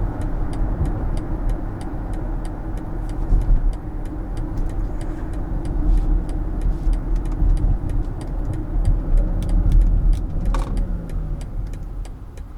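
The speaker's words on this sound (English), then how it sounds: "I need to make a U-turn over here." A BMW X7 xDrive40i seven-seater SUV heard from inside while making a U-turn: a steady low engine and road hum with faint clicks and small rattles, rising slightly partway through, with no talking.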